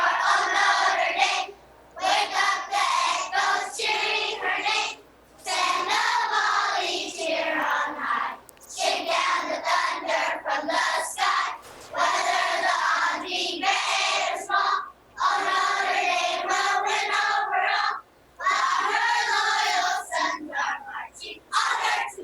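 A third grade class in Stockton, California sings the Notre Dame fight song together as an energetic, shouty chorus of children's voices. Brief pauses fall between the lines.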